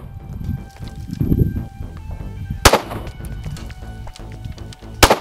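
Two sharp, loud shots from a Springfield XDS pistol firing live ammunition at close range after a trigger recall fix, spaced a couple of seconds apart over low background rumble.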